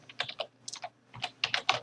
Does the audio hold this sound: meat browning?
no